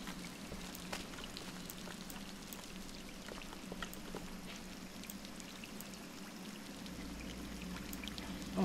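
Flowing water in the dark exploration game Scanner Sombre, a soft, steady splashing and trickling like a stream or pouring, with faint drips, low and continuous throughout.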